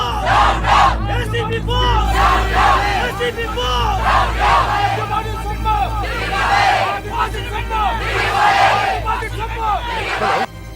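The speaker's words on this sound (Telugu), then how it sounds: "వెనకాల జనం బోస్ డౌన్ డౌన్ అని అరుస్తూ ఇటే వస్తారనా?" A large crowd shouts and chants loudly in unison, rhythmic bursts of angry voices surging again and again, close and dense, with traffic rumble underneath.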